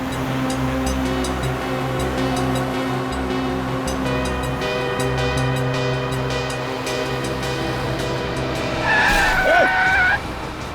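A car engine drones steadily under soft background music, then near the end a short, loud tyre screech rings out as the car skids to a halt.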